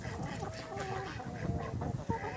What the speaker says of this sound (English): What in the world's them ducks doing in your chicken run?